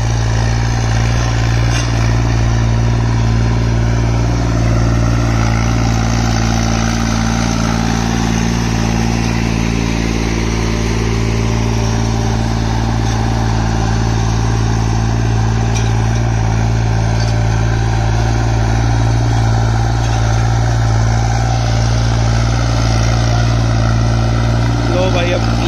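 A heavy tractor engine pulling a harrow drones steadily and loudly under load throughout, with a strong low rumble and people talking over it.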